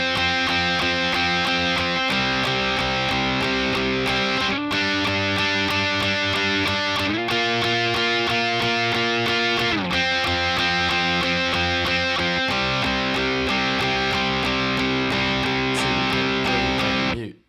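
Distorted electric guitar plays the bridge of a song, loud sustained power chords shifting every couple of beats in a steady rhythm, heard alone with no voice.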